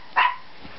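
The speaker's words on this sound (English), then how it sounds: "And there she goes barking." A single short, sharp dog bark, close and fairly loud, followed by quiet.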